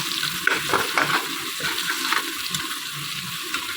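Browned onions with garlic paste fry and hiss steadily in a pan while a spoon stirs them, the continuous sizzle close and fairly loud, broken by faint scraping.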